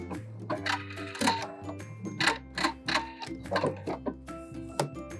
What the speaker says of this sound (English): When you get to the end of your project, you can back stitch and cut.